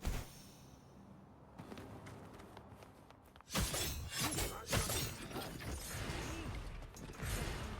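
Glassy shattering burst from the video game Wuthering Waves, breaking out abruptly after a quieter mechanical lead-in and followed by scattered crashing debris and tinkling fragments.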